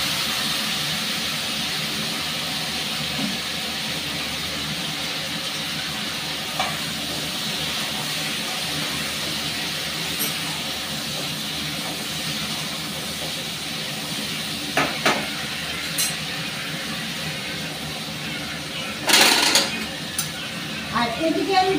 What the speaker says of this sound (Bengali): আমার তেলটা গরম হয়ে গেছে। এবার এর মধ্যে ইঁচড়গুলো দিয়ে দিচ্ছি।